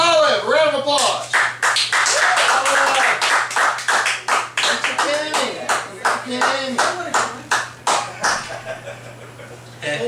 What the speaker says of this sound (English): Ladies and gentlemen, Olive, a round of applause